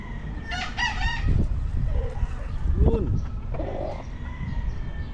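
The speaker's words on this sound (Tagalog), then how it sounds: "Yan yung mga sisiw natin guys" Gamefowl chickens and chicks at a breeder's yard: a rooster crows prominently near the middle, along with clucking and high chick peeps, while someone talks over the birds.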